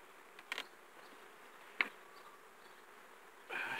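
Honey bees around beehives give a faint, low buzzing with a few brief louder passes as individual bees fly close, then a swell of buzzing at the end, with no talking.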